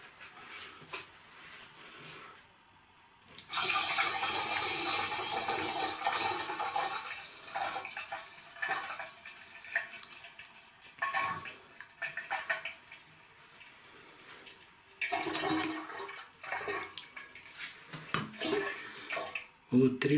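Blackcurrant dessert wine pours into a 20-litre glass bottle in bursts, a hollow gurgling splash that starts and stops several times.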